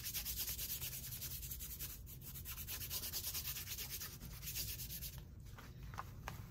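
A rhinestone transfer is rubbed down firmly by hand onto a vinyl t-shirt design: a steady, close scratchy rubbing in quick back-and-forth strokes, continuous with no talk.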